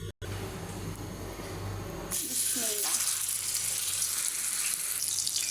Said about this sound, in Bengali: তেলটা গরম হয়ে গেছে। এখন দিয়ে দেব কাবাবগুলো।